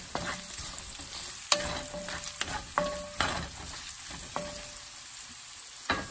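Chopped small onions sautéing in a pan for a Kerala village-style shrimp roast, a steady close sizzle broken by sharp clicks and scrapes of a spoon stirring, with no talk.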